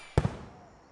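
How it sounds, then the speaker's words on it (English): A firework item bursts in a video game: one sharp, loud pop followed quickly by a second smaller crack, then a fading tail into quiet. "Second item is a firework."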